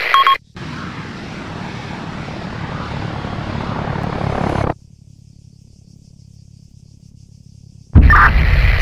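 Enemy plane in a video game flying past, a steady broad engine drone building louder for several seconds, then cutting abruptly to a faint low hum before a sharp loud burst returns.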